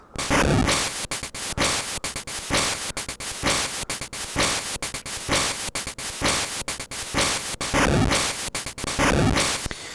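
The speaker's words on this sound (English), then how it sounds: "This is like a very low crash." Noisy, low chiptune crash bursts from the LSDJ noise channel repeat in a fast rhythmic pattern, harsh static-like hits chopped by brief gaps, loud and close.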